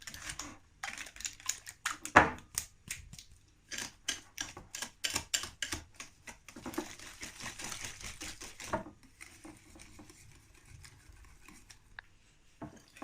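Eggs being stirred by hand in a bowl for a whipped-cream cake batter, giving a rapid series of close, sharp clicking and tapping strokes that are steady at first and then soften toward the end, with no talking.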